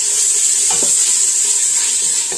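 Minced garlic being stirred into a simmering pan, a loud, close, steady hiss with a couple of soft utensil taps partway through.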